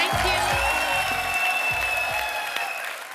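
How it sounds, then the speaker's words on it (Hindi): Applause from a studio audience at a TV comedy show, a dense, steady wash of clapping that stays loud and close for the whole stretch before easing slightly at the end. A voice can be heard under it. "जोरदार तालियां हो जाएगा।"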